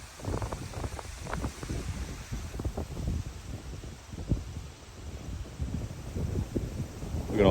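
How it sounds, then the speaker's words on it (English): Gusty wind buffeting the microphone in irregular rumbling bursts, rising and falling without pause and swelling louder at the end. "I know it's windy, bear with me."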